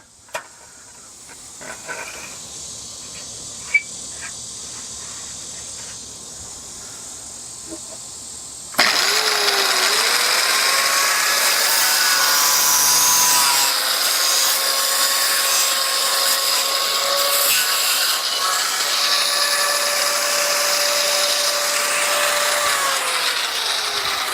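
An angle grinder braced in place cuts into factory center caps from OBS GMT400 wheels, a loud steady high whine starting abruptly partway through and running continuously to the end after quieter clatter and clicks.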